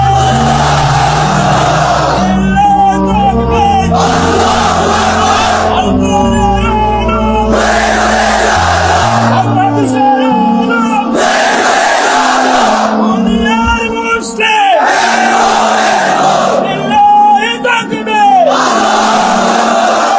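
A crowd of men chants takbir in unison after a conversion to Islam, loud repeated call-and-response bursts in a steady rhythm, several voices roaring together with brief pauses between shouts.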